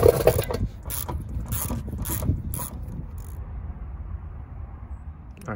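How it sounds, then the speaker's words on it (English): A small ratchet clicks in a few short bursts while loosening a bolt on a Genesis Coupe 2.0T during an intercooler install, close and fairly quiet, then fading to a faint background hiss. "get your little ratchet or something"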